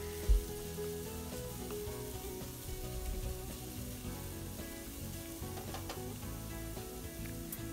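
Chopped capsicum sautéing in a pan for dry veg Manchurian gives a steady, soft sizzle throughout, with an occasional light stir or clink and no talking.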